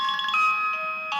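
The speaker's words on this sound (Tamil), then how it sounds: "ஃபோன் அடிக்குது, எடுக்கிறானா பாரு." A phone ringtone plays in a steady electronic melody of bright sustained tones, loud and close, with no talk over it.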